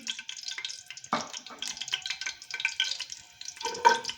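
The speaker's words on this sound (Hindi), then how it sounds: "अब मैं इसमें ऐड कर रही हूँ 1 चम्मच साबुत ज़ीरा।" Whole cumin seeds sizzle in melted ghee with close, crackly bursts and a busy, uneven texture. A spoon stirs through the oil, and there is a louder scrape or stir partway through.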